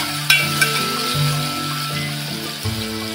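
Crushed ginger and garlic hit hot oil in a tempering for a shingali rassa curry, producing a close, steady frying sizzle with a few light clinks and stirring sounds over about three seconds, without speech.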